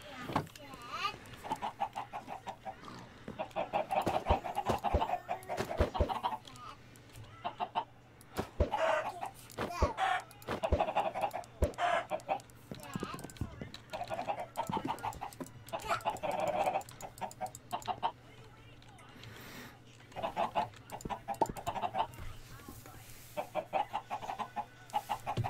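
Minecraft chickens cluck at intervals over a long stretch, short clucking bursts among clicks and other game noises, with a person talking over them at times.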